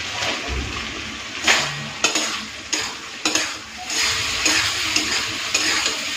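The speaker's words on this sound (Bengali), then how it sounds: "এরপরে ওই ভেজে রাখা আলুটা দিয়ে দেবো।" Fried potato being stirred into spiced masala in a pan for a prawn curry, giving a steady sizzle with repeated scraping, stirring strokes close by and no talk.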